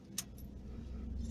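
A metal chain jangles as someone walks door to door handing out cards, giving a few brief, close metallic clinks over a steady low background hum.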